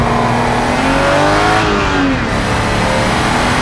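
A 1999 Honda S2000 sports car driven through a high-speed slalom, its engine loud and close with a steady roar that rises and falls in pitch as the car weaves and shifts load.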